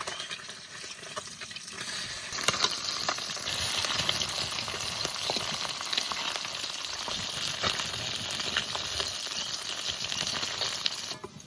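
River chela fish sizzle and crackle steadily in a hot pan, a dense close frying hiss with occasional utensil clicks as the fish are turned, no talking.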